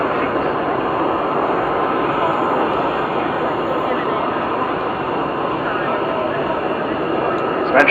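An Avro Vulcan bomber jet flies at the Yeovilton 2013 airshow: a loud, steady, broad roar held for about eight seconds, with a voice talking over the noise.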